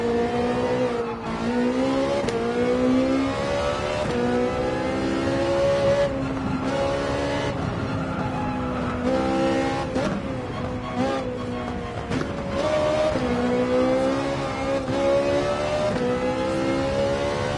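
A BMW race car in Gran Turismo 7 screams through a hot lap, its engine revving up and down through gear changes, with a steady loud drone and occasional tire squeal, alone without talk.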